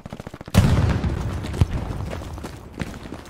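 Rapid machine gun bursts in the World War II shooter Hell Let Loose: a quick run of evenly spaced shots, then a heavy close blast and a few scattered loud reports over a rumbling battlefield background.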